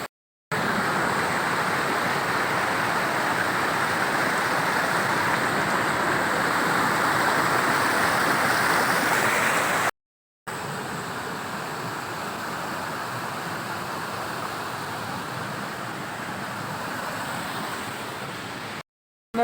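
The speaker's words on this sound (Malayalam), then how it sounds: "നല്ല വെള്ളം ചാടുന്നതിൻ്റെ ആ സൗണ്ടും ഒരു മനോഹരമായിട്ടുള്ള സ്ഥലം തന്നെയാണ്" A waterfall along a hiking trail, water rushing and splashing in a dense, unbroken roar that stays loud and steady throughout, cut by two short breaks.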